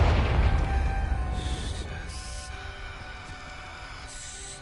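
A Confringo blasting spell explodes in the Hogwarts Legacy game, giving a loud, deep booming burst at the start that slowly decays into a rumbling tail, with game ambience and faint tonal effects lingering.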